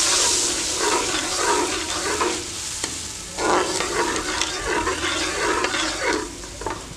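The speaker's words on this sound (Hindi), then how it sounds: "और इसको एक दफ़ा हिला देते हैं।" Kashmiri dum aloo curry being stirred in a pot, with wet scraping and sloshing strokes and a soft sizzle running underneath, close and moderately loud with no talking.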